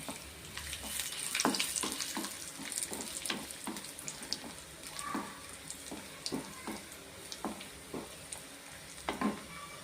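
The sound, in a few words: raisins frying in oil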